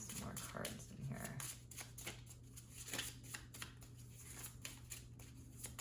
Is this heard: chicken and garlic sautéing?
no